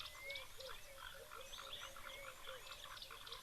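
Foam nest frogs at a waterhole keep up a busy, overlapping run of rattling croaks, moderately faint and steady, with no talk over them.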